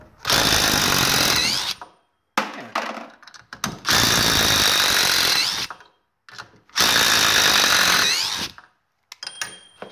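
A Dewalt DCF887 cordless impact driver, loud and close, hammering in three long bursts of several seconds each, separated by short pauses and brief taps of the trigger.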